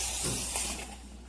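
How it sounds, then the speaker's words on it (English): The steam wand of a MiiCoffee Apex V2 espresso machine hisses and sputters water instead of giving steady steam, a close, breathy rush that fades over about a second. "There is no continuous steam. You always get water into your milk."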